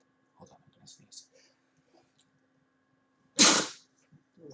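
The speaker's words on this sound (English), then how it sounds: "Hold on, I'm gonna sneeze." A single loud, sharp human sneeze bursts out after some soft, brief mumbling, then quiet.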